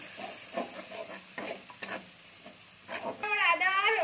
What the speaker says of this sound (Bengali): এর মধ্যে আদা বাটা, জিরে বাটা আর এই কাঁচা লঙ্কা বাটাটা আমি দিয়ে দিচ্ছি। দিয়ে আমি এটা একটু ভেজে নেব।